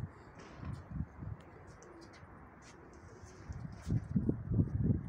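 Pigeons coo repeatedly on a rooftop, the low throaty calls coming in clusters, soft at first and growing louder and denser toward the end, with faint higher chirps and light background noise.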